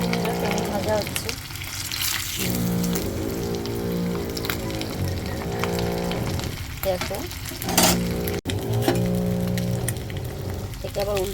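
Spice-marinated pieces sizzling and frying in a hot pan over a high gas flame, a steady close crackle running throughout while someone talks over it.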